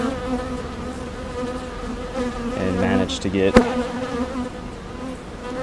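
Honeybees buzz steadily and close during a hive inspection, a dense droning hum that swells midway, with a brief sharp knock; someone speaks a few words over it.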